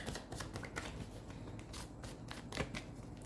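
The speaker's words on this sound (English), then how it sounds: "I'll pull more cards out." Tarot cards shuffled by hand in a steady run of soft riffling flicks and slaps, close and alone with no talking over it.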